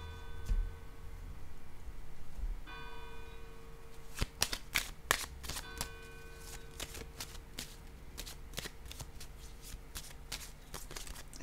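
Tarot cards shuffled and laid down on a table, with a long series of close, sharp card flicks and taps in an irregular rhythm that fills most of the clip over a quiet background.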